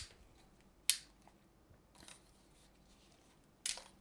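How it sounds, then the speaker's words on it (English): The aluminium legs of a K&F Concept 72-inch tripod snapping into their locked position, with two sharp, close clicks several seconds apart and a softer click between them over quiet room tone. "You just flick the legs all the way down. You can hear a distinct click."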